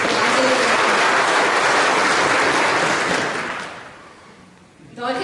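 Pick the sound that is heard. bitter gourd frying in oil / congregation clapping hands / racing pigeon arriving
congregation clapping hands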